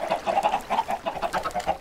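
Chickens clucking in the Minecraft video game, a steady run of close, choppy clucks repeating in quick rhythm with no voices.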